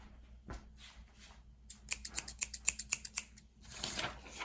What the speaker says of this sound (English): let me get some scissors. I'm just going to hack this up.